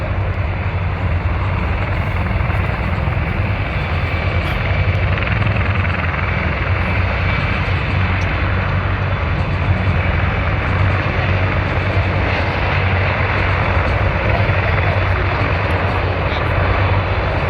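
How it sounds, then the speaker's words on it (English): A CH-53 Super Stallion heavy lift helicopter of the US Marine Corps at an airshow, its loud, steady rotor thrum and turbine whine filling the air continuously and close by. "This CH-53 Super Stallion is the largest heavy lift helicopter in the United States Marine Corps"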